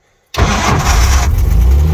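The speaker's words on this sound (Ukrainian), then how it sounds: "Пропоную вам запустити двигун." The engine of a 1954 GAZ M-20 Pobeda fitted with a Ford engine cranks and catches abruptly after a moment of silence, then settles into a loud, steady idle close by.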